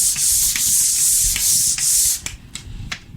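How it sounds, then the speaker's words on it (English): Rhythmic hand sanding on a wall, repeated rough scraping strokes up close, loud at first and then trailing off into lighter, scattered rubs. "Move up and down a little bit so that you're kind of feathering out your sanding"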